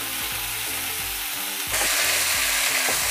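Long beans and chopped onion stir-frying over high heat, a loud dense sizzle that swells louder partway through, with steady tossing underneath.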